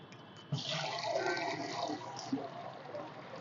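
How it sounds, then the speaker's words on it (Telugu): Water poured into a container of fertilizer solution, a soft gushing splash that starts abruptly and continues steadily, fairly faint and with no talk. "ఇప్పుడు పదహారు లీటర్ల నీళ్లు పోసుకుందాం"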